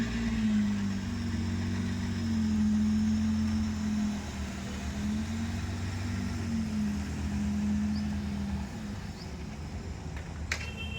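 A car engine runs steadily and rises gently as it accelerates during a driving lesson while backing into a garage, a close, continuous mid-pitched drone with small shifts in pitch and no talking.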